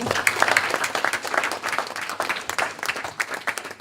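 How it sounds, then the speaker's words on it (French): A crowd applauds with scattered, lively clapping that continues steadily throughout, fairly close. "vous pouvez applaudir ces mamans"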